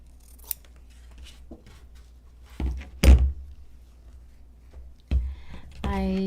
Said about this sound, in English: I'm going to go ahead and cut the edges off and go for an all green.